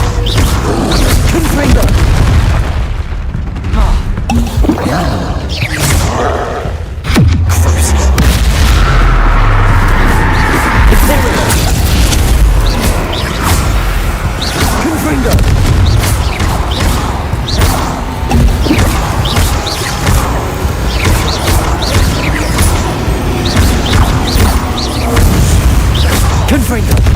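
Confringo fire spell explosions in Hogwarts Legacy: loud, dense booms and crashes over continuous combat noise, with a voice shouting through the blasts.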